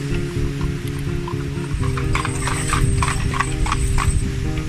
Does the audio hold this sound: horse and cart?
yes